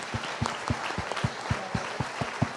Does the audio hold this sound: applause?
yes